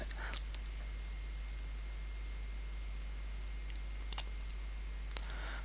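A computer mouse clicks a few times in sparse, faint single taps while working in AutoCAD Civil 3D, set against a steady low hum and hiss from the room and equipment.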